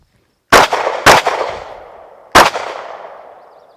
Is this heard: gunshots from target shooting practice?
yes